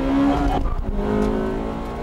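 A Honda Integra Type R engine revs hard and climbs through the gears close by on a track, a loud rising whine broken by a brief shift.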